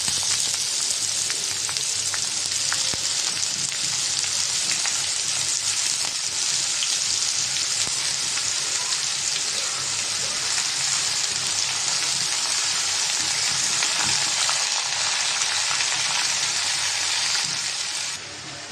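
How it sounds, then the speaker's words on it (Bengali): Chopped snake gourd tossed into a pan of fried onions and garlic, giving a loud, dense, steady sizzle like heavy rain that runs unbroken, close up, with no voices. "পেঁয়াজটা বাজা হয়ে গেছে সিসিঙ্গে দিয়ে দিলাম"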